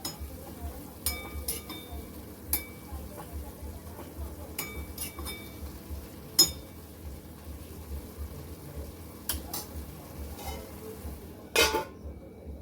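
Vegetable curry of dingri (bhogri) stirred in a pan with ground coriander and garam masala, giving scattered light clinks and scrapes of a utensil against the pan over a soft steady background, with no talking.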